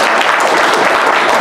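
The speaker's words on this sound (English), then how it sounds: "How about a big round of applause?" Loud, dense applause from a crowd, steady throughout the short moment.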